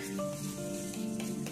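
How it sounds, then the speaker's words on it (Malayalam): Washed Ponni rice is added to a pot of boiling water for a simple Kerala lunch. A steady bubbling, sizzling wash runs throughout, with a faint ringing tone under it and no talk. "അതിലേക്ക് നമുക്ക് കഴുകി വെച്ചിട്ടുള്ള അരി ചേർത്ത് കൊടുക്കാം"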